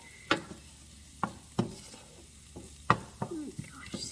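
Garlic frying in a pan with a quiet background sizzle, broken by several sharp scrapes and clacks of a utensil stirring it in uneven bursts.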